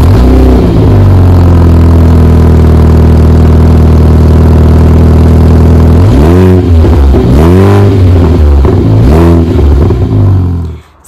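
A 2020 Mini John Cooper Works Convertible starts up and settles into a loud, steady idle, with several sharp throttle blips near the end before it cuts off.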